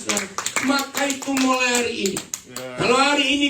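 A church congregation claps for God during a sermon on Emmanuel, a run of sharp rhythmic hand claps mixed under loud singing or speaking voices close by.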